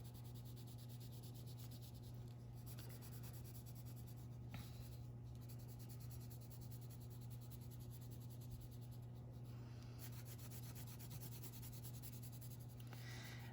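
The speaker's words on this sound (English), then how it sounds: "I'm gonna color in yellow with my colored pencil" A colored pencil rubs steadily on paper as a fish drawing is filled in with yellow, a soft, continuous scratchy stroking close up with short pauses, under a constant low hum.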